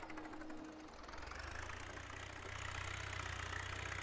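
A Russian tractor engine in Farming Simulator 17 labours over uneven ground, a low, steady drone that slowly grows louder and heavier as it strains, with a faint higher hum above it.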